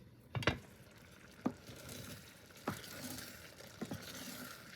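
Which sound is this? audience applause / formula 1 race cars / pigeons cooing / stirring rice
stirring rice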